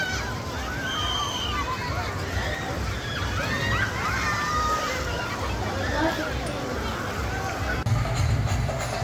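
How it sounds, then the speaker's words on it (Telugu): Artificial rain pouring like a waterfall at a water park, a dense continuous splashing and sloshing wash with crowd babble and voices throughout. "పైనుంచి రెయిన్ పడుతున్నట్టు వాటర్ ఫాల్స్ లాగా వస్తున్నాయి"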